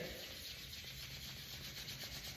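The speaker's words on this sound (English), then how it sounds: "So back to rubbing the palms." Palms rub together during a gentle yoga warm-up, giving a continuous close, soft swishing friction sound with no talking.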